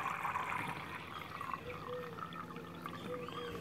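Water pours steadily into a container being filled to the one-liter mark for watering a desert rose, a continuous trickling and splashing stream close by, with no talk over it.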